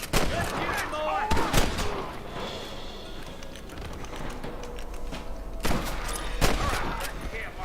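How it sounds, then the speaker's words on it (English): Gunfire from the Red Dead Redemption video game: sharp repeated shots cracking in bursts across the clip, with heavy reports near the start and again toward the end over background game sound, with some speech mixed in. "Stop shooting at me!"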